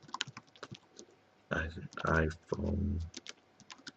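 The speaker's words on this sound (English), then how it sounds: "So I fill in my first name, type in" Fingers tap quickly on a computer keyboard, light clicking keystrokes close to the microphone, with a short stretch of someone speaking in the middle.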